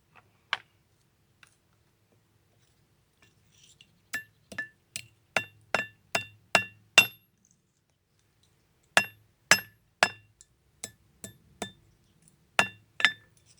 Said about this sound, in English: Let's try to hammer on it.